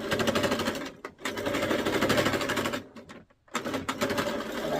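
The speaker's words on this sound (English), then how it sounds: "So I'm starting to sew that down." A sewing machine stitches ruffles onto an orange dress, its needle hammering in a fast, steady close-up rhythm, briefly pausing twice before running on again.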